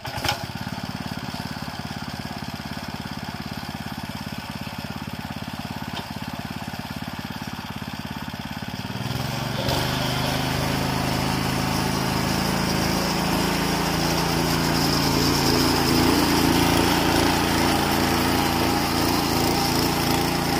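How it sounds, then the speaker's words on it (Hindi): A Bullet engine on a small farm machine runs loud and close, a steady mechanical drone that grows rougher and fuller about halfway through, with no talking. "बुलटा इंजन है"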